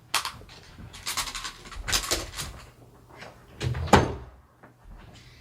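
A door swung shut indoors, heard as several knocks and a firmer thump near the end, close and fairly loud, with some scuffling handling around it and no speech.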